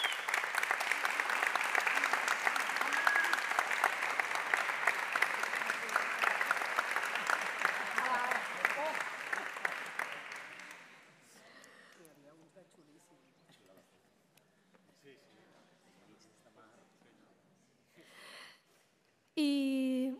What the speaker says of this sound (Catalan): m'agradaria que li donéssiu un aplaudiment molt fort